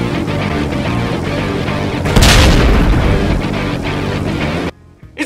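Enemy blowing up in the video game Ride to Hell: a loud, deep boom bursts out over continuous game noise, rumbles for about a second, then the sound cuts off abruptly near the end.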